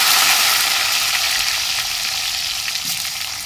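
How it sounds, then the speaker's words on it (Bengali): Chopped vegetables sizzle loudly and continuously in a hot pan tempered with dried red chilli, cumin and radhuni for a Bangladeshi water spinach dish, a dense, steady frying hiss with no voices. "সবজিগুলো একটু ভেজে নেব।"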